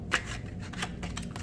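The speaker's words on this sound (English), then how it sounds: "We'll shuffle again, just to make everything fair" Playing cards being shuffled during a card trick, a quick riffle of papery bursts and flutters lasting just over a second, close and clear with no talking.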